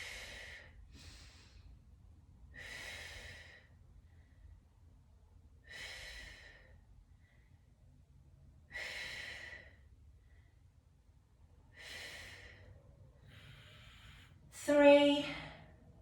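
Heavy, rhythmic exhalations during a full-body workout repeat about every three seconds, close and fairly quiet, ending in a louder snorting breath.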